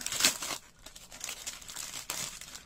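Plastic packaging holding alphabet banner letters is pulled open up close, making soft crinkling and tearing rustles in short bursts with quiet gaps between them. No one speaks.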